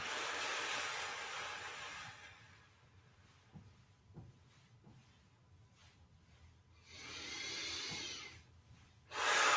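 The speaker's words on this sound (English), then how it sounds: "And breathing out." Slow, deep exhalations during an autumn shiatsu breathing exercise: two long, soft, airy breaths out, close by, with quiet stillness between them and no talking.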